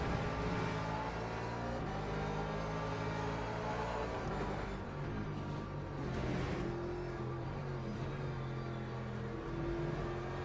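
Racing car engines roar continuously in the sim racing game Le Mans Ultimate, a loud sustained drone with shifting pitch as several cars run close together in traffic, with no speech.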